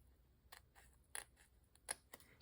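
Scissors trim a watercolor wildflower paper card in several short, quiet, crisp snips spaced irregularly, close and alone.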